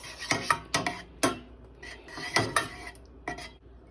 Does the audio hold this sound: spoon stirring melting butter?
yes